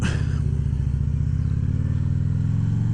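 A 2016 Harley-Davidson Street Glide Special motorcycle engine rumbles steadily while riding on a road in Oklahoma, with a loud, continuous deep throb and a brief rising rev at the start, and no voices.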